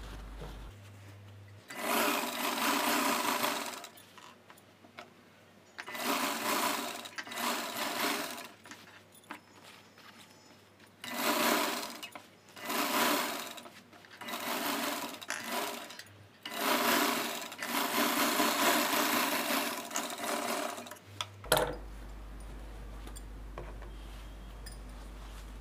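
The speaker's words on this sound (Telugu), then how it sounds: "ఇలా చూసారు కదా, ఈ రకంగా నెక్ అనేది స్టిచ్ చేసుకోవాలి." A sewing machine stitches the neck of a blouse in long whirring bursts, each run stopping and restarting several times, close and loud with no speech.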